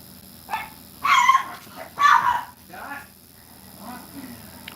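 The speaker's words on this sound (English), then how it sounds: "What are they barking about?" Dogs barking at home. Several sharp barks and yips come close by in short bursts with gaps between them, and a person talks faintly in the background.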